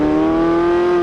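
The naturally aspirated V8 of a Porsche 918 Spyder hums steadily at high revs, a strong sustained tonal engine note held for about a second, loud and close with no talk.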